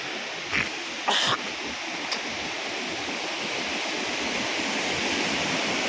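A mountain stream flows as a steady, fairly faint wash of rushing water, with a few brief knocks near the start and no talking.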